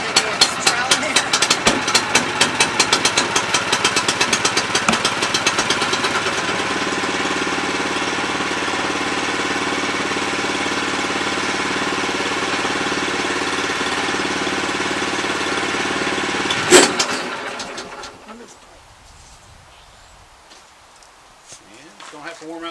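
A sawmill engine running on diesel fuel gives a loud steady knocking, chugging drone, close and constant, before a sharp clank and a fade to quiet.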